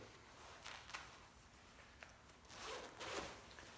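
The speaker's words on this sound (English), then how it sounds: "Go and unzip it." A two-piece racing suit for quarter midget racing is unzipped in a few quick rasping zipper pulls, close and fairly quiet, with brief pauses between strokes.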